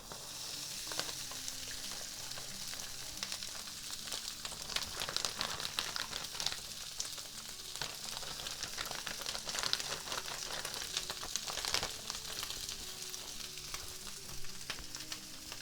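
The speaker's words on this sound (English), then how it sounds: "I lower the heat down a little bit more so it won't be frying too much." Pre-cooked chicken fried rice with garlic powder sizzles steadily in a hot pan, a continuous frying crackle with occasional stirring scrapes and no voices.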